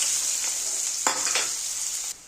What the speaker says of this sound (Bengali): পেঁয়াজ আর কাঁচা লঙ্কাগুলো ভেজে নেব।